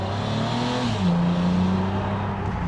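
A 3.2 TT car engine in manual mode revs steadily, its pitch climbing then dropping and settling into a sustained throaty drone, loud and close, with no voices.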